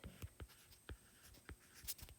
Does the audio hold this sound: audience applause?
no